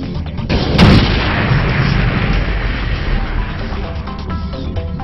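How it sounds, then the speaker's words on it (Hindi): Mining-area blasting in the Jharkhand forest gives a single deep boom about a second in, followed by a long rumbling, rolling tail that slowly fades with no talk. "खनन क्षेत्रों में किया जाने वाला विस्फोट जंगल की शांति और सहिष्णुता को भंग करता है।"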